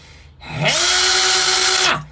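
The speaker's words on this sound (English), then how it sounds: "at Home Depot you can get a fucking drill bit pencil sharpener" A drill bit sharpener whirs up, runs at a steady loud high-pitched whine for over a second, then spins down, heard close and alone.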